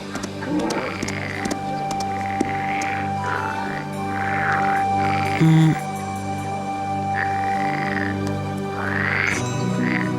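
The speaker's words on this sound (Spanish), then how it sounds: "No me digas que le temes a una rana." A frog croaks in repeated throaty bursts over a steady humming background, with a few louder calls scattered through the stretch.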